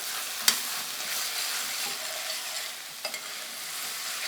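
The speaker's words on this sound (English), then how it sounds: "keep stirring this for about 35 to 45 seconds as this tomato paste browns" Tomato paste browns in a pan for shepherd's pie under a steady soft sizzle. A spoon stirs it, and occasional light scrapes and taps of utensil on metal sound close by.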